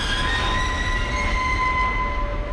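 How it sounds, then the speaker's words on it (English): A loud, steady train rumble with sustained high metallic squealing tones over it, continuous and intense, with no talking, as film sound. "the sound of the train just gets really loud and intense"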